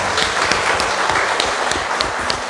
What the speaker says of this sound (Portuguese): Vamos dar salva de palmas para o Senhor?